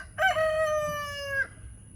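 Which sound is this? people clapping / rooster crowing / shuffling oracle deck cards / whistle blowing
rooster crowing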